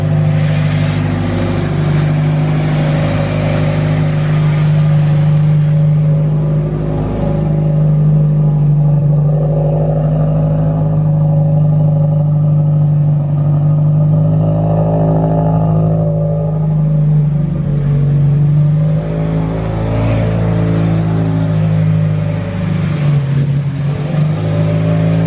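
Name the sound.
Subaru Impreza engine running with rough idle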